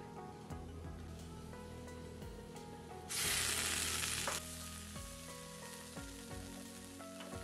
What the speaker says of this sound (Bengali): দিচ্ছি কাজু কিশমিশ, যেটা করে রেখেছি সেটাই দিয়ে দিচ্ছি।